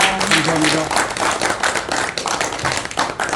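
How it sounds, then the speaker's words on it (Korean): Audience applause at an association executives' training workshop in Incheon, with dense, steady clapping filling the room and a brief voice fading near the start. "큰 박수 부탁드리겠습니다"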